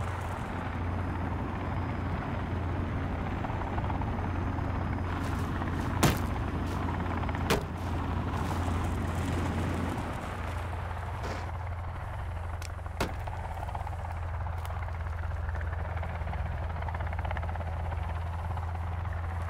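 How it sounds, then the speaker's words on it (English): A helicopter in the survival game Sons of the Forest drones steadily close by with a continuous rotor rumble, while a few sharp clicks and bangs cut through it. "There's a helicopter."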